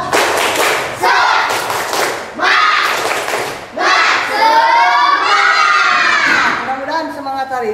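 A class of schoolchildren in an Indonesian primary school perform a group spirit clap and cheer. Loud rhythmic bursts of clapping and thumps alternate with shouted chanting voices, close and energetic, in several waves.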